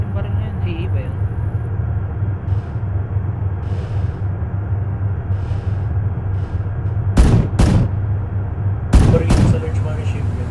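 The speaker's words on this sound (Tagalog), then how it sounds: "Nakakatakot yung baril na yun. AA ba yun?" Gunfire in the military shooter Arma 3 Wasteland: two sharp, loud cracks a couple of seconds apart cut through a constant low rumble, with a few fainter distant pops earlier and people talking.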